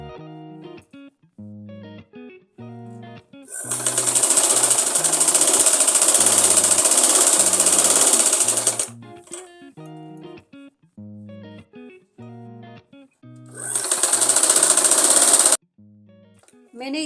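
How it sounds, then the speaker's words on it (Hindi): Sewing machine stitching an Afghani salwar with a half-inch allowance, running in two loud steady bursts, a long one and then a shorter one, with a soft tonal beeping pattern around them. "आधा इंच हमने बाहर की साइड को फैब्रिक छोड़ते हुए इसमें सिलाई कंप्लीट करेंगे।"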